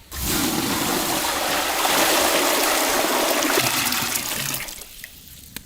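Fresh water pours in a loud, steady rushing stream for noodle cooking, continuous for several seconds before tapering off near the end, with no voices.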